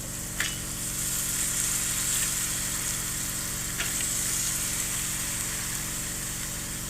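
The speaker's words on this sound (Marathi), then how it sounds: "आणि टोमॅटो आणि बटाटा ह्या परतून घेऊ जेणेकरून सगळ्याला तो मसाला लागेल" Tomato and potato sautéing with spice masala in a pan, a steady low sizzle and hiss running throughout with a few faint scraping clicks, no talking.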